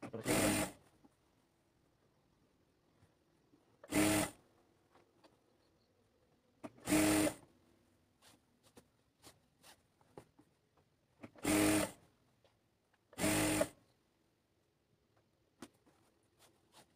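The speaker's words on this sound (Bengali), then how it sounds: "বের করে এভাবে ধরে আপনারা সেলাই করবেন" A sewing machine stitches a palazzo in five short, loud bursts separated by quiet gaps filled with small handling clicks and rustles.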